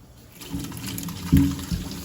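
Water drains off boiled ackee being strained, a soft trickle and splash with a couple of louder pours near the end, close by.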